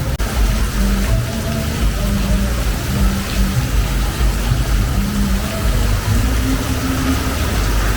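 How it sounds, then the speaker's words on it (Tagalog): A heavy downpour drums down in a steady, loud, unbroken roar, with a low rumble running underneath. "Dahil ang lakas ng ulan dito. Sobrang lakas ng ulan."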